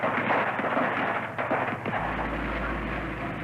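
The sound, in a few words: barrage of gunfire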